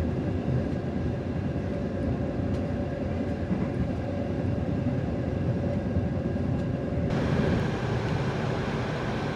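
The Progo passenger train arrives at Kebumen station, rumbling loudly and continuously close by, its steady roar swelling slightly near the end.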